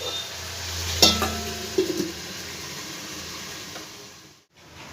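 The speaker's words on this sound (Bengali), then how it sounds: "মশলাটা ভালো করে ভাজা হয়ে যাবে, কাঁচা গন্ধটাও ছেড়ে যাবে।" Spice paste of cumin and ginger sizzles softly in a pan for a Bengali rohu fish curry, with a few brief clinks of stirring near the start and a steady low fry beneath, fading at the end.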